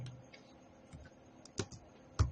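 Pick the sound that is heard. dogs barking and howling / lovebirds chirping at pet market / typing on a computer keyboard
typing on a computer keyboard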